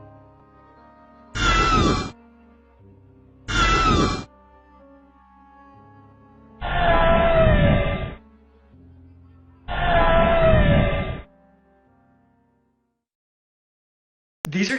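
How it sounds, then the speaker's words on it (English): A girl screams in cemetery ghost-hunting footage: four loud, drawn-out cries with strained, wavering pitch, separated by short silences, then the sound cuts off. "Perhaps the creepiest part about the footage is the girl's scream while he's running away."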